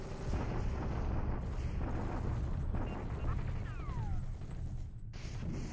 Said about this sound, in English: Just a bombardment here.